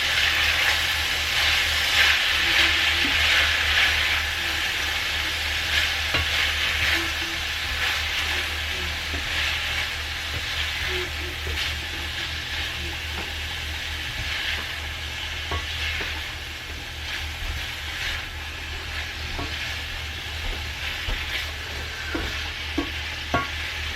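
Food fries in a pan with a constant hiss and crackle while repeated scraping stirs and light utensil taps come through, under a low background hum.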